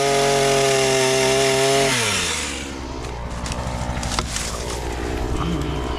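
A chainsaw engine roars loudly at a steady high pitch while clearing an abandoned motocross track, then drops into a rougher, lower running idle that keeps going.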